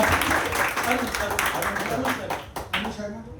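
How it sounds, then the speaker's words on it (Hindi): Audience clapping for a speaker at a Hindi devotional talk, a spread of hand claps under a voice speaking over them, fading toward the end. "एक बार भाई साहब के लिए ताली बजा दीजिए।"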